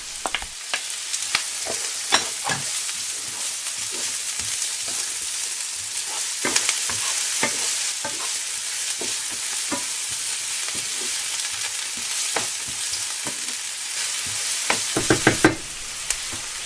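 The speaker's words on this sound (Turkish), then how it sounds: "Doğramış olduğum yarım kırmızı biberi de ilave edip şöyle bir dakika daha kavurdum." Steady sizzling and frying of chopped red pepper sautéing in a pan, with scattered clinks and scrapes of a utensil stirring throughout, growing busier near the end.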